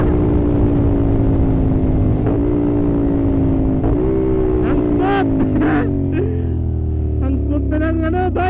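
A CFMOTO 450SR motorcycle engine runs smoothly after maintenance, giving a steady, close, even drone throughout while a voice talks over it in the later part.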